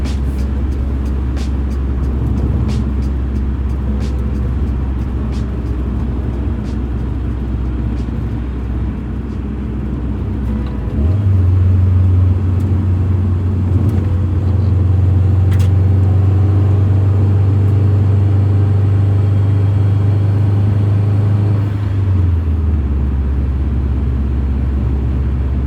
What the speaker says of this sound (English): Car seems to be running great though.